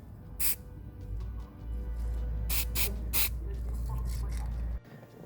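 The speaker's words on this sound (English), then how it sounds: "we're just going to spray it in this kind of motion here, just in bursts, just to get a nice thin layer" A spray paint can lays an undercoat on miniatures in several short, sharp hissing bursts, some clustered close together, over a low steady background hum that drops away near the end.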